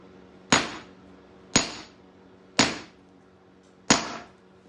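A hammer cracks at a geode with four sharp, separate whacks spaced about a second apart, each a loud, close impact with a short ringing decay over quiet background.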